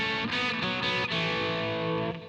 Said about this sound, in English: I've even got more, I think, distortion going than really the record is.